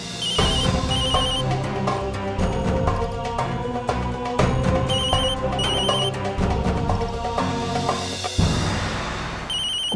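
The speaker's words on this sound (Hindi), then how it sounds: "मेरे फोन की रिंगटोन बज रही है।" A phone ringtone plays loudly and continuously, a repeating melodic tune with bright chiming notes cycling over several seconds.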